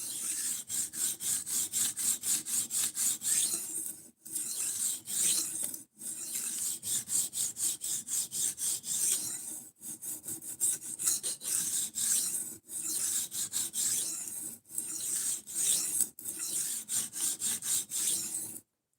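A knife is drawn repeatedly across a 400 grit sharpening stone, close rhythmic rasping strokes in steady bursts with short pauses between sets, no talking.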